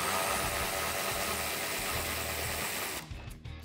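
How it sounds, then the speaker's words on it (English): A ratchet and 8mm socket remove hardware from a 2019-2020 RAM 1500 for mud guard installation, giving a steady, continuous mechanical whir close up that cuts off near the end, followed by a few short clicks. "We're going to grab our ratchet and the 8mm socket to do so."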